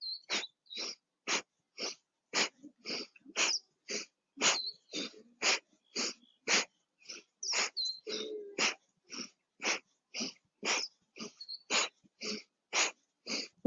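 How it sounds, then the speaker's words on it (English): Rapid, forceful breath-of-fire exhales during a vigorous morning yoga session: about two dozen short, sharp nasal puffs in a steady rhythm, close and fairly quiet, with a brief soft voice in the middle. "Forceful exhales."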